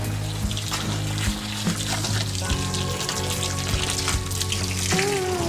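Water is poured onto soil around the base of an old grapevine, giving a steady, close trickling and splashing that runs without pause.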